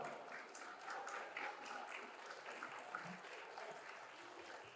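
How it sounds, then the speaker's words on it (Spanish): An audience at a gender-issues forum gives a round of applause. The clapping is steady, dense and fairly distant, with faint voices mixed underneath. "Otro fuerte aplauso, por favor."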